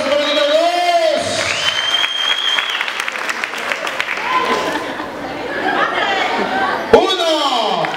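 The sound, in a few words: applause for the number two contestant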